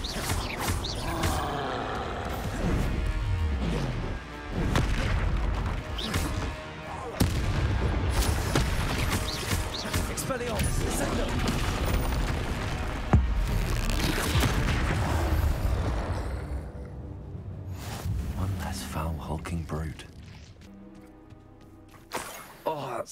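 Confringo and Expelliarmus spell blasts in Hogwarts Legacy, with repeated loud crackling bursts and booms in quick succession over constant combat noise that fades toward the end, while a person talks throughout.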